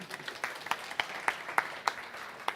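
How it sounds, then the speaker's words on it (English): An audience claps at an event about children's well-being: faint, evenly spaced claps repeat in a steady rhythm, like a small group clapping together at a distance. "yes, let's clap"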